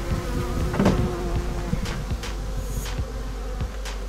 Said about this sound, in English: Oh yeah, bunch of bees in here.